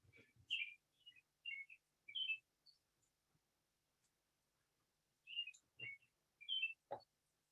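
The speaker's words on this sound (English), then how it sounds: "like the birds we have out here encouraging me to stop talking" Birds calling outside a window during a quiet talk, giving short, faint chirps and twittering phrases in two clusters separated by silence.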